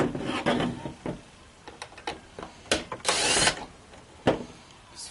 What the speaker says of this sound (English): Now I'm gonna remove that coin holder.